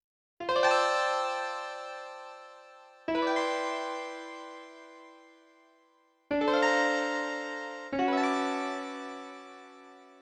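Four sustained, ringing keyboard chords, each struck firmly and left to decay, with open, hollow-sounding stacked-fourth voicings and no talking.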